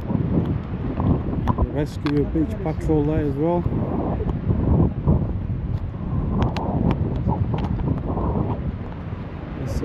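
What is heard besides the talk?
wind at the seaside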